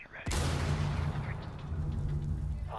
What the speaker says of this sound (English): I shot the hostage